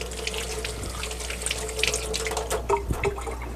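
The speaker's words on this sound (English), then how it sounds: "I'm going to get some garlic washed." Garlic being washed under a running kitchen tap, a steady close water stream with splashes and a few clunks near the end, no talking.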